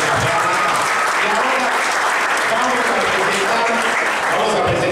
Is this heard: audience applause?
yes